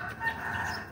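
Chickens cluck and a rooster calls in a backyard flock of young birds, a steady close chorus of fowl sounds lasting about a second with no voices over it.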